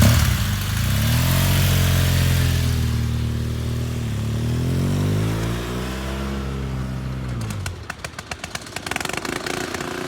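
A motorcycle engine revs up hard through rising pitch, eases, climbs again, then drops off sharply as the bike brakes to a stop at about 25 mph within 15 feet, leaving a few rattling clicks; loud and close, with no talk.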